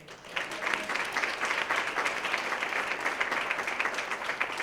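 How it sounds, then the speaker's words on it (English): At a Hall of Fame award ceremony, an audience gives a round of applause, steady many-handed clapping that starts after a brief pause and holds evenly at moderate volume. "So let's give a round of applause to Miss Nancy Holloway real quick."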